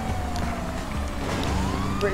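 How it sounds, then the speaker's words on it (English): A police car siren in a GTA video game race wails with a rising and falling tone, steady and fairly loud over engine drone, with a voice talking nearby. "Gotta have sirens on, that's what they're there for."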